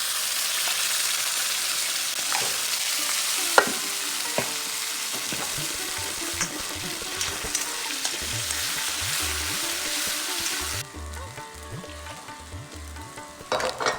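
Ground masala paste sizzles and spits in a hot pan with fried onions for a soya chops masala. The frying is steady and close, the hiss thins after about eleven seconds, and there are occasional stirring clinks.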